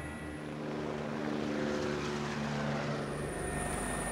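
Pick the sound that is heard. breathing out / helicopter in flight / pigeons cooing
helicopter in flight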